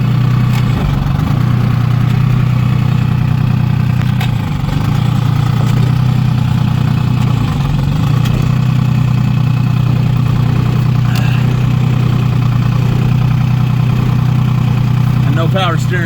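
A two-stroke diesel engine in a Toyota idles after a cold start. It runs with a steady, loud, low drone, and faint clanks and a brief voice-like sound come near the end.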